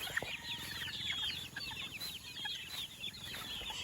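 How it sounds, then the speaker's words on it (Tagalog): Many small chicks peep in a dense, continuous chorus of high chirps, close by, with some soft clucking of hens mixed in. "Sisiw na healthy."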